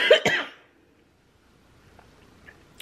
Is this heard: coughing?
yes